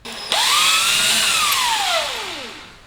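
High-speed power drill spinning a 2mm bit, working on a Honda CT70 motorcycle's oil pump parts; a sharp whine starts abruptly, holds near and loud, then slows and fades with a falling pitch.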